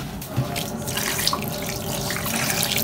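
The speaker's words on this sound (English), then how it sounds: "make sure you add just a little bit of water" A steady stream of water, a cup poured into a bowl of marinating chicken, runs and splashes continuously for a few seconds, close by, with no voices.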